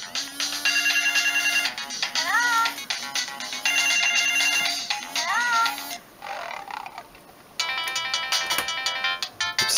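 A Samsung C200 mobile phone ringtone repeats a bright synth melody with rising sweep figures over a steady low vibration buzz, close and loud, with a short gap before another tune starts.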